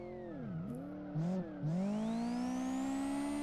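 A Nissan Silvia S14 in the racing game Live for Speed revs its engine through a harsh exhaust, the pitch dipping on shifts and then climbing steadily under sustained throttle, loud and alone.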